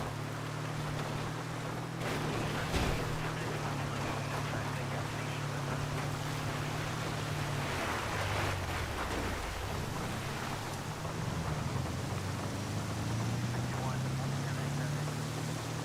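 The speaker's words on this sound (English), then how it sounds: "here comes that freaking Halloween nighttime rain" Steady rain in the video game GTA Online, a dense continuous hiss with low rumbling engine drone, constant and moderately close, with someone talking quietly over it.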